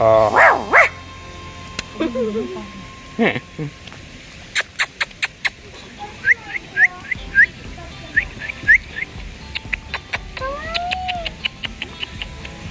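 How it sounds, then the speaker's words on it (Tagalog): Wolves at an animal park in Nagoya, Japan, giving a series of sharp barks and yelps, some close and loud, others in quick clusters, with people talking nearby. "Asong lobo."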